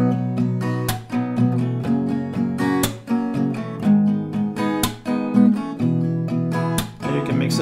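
A close acoustic guitar picks one string at a time through each chord in a repeating pop progression, steady arpeggiated notes with occasional brighter accented plucks, playing alone without any voice.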